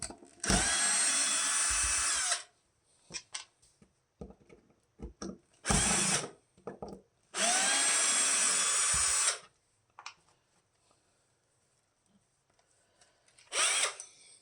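A power drill backs screws out of a Telecaster-style guitar body in three loud whirring bursts, two of them long, followed by a short final burst, with soft handling clicks and taps between them.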